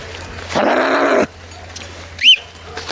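A flock of sheep and goats near a river crossing, with one bleat lasting about a second up close, followed by a short high call and a quiet outdoor background.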